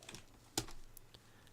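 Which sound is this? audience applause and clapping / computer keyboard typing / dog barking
computer keyboard typing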